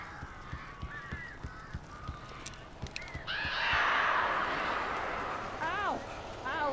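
Crows cawing in the video game Alan Wake Remastered: a few short, harsh calls come through over a steady hissing ambience, with a louder cluster of caws near the end.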